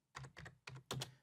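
Four quick clusters of keystrokes on a computer keyboard, close and crisp, tapping out a short search query in an uneven burst.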